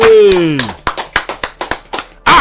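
Clapping at a Yoruba gathering, a run of about ten sharp, evenly spaced claps from one or a few pairs of hands, preceded and followed by a voice.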